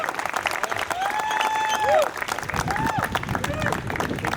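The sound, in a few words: audience applause for Daniel Vogel, co-founder and CEO of Bitso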